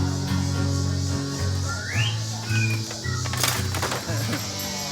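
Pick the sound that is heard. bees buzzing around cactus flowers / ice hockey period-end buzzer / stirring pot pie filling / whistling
whistling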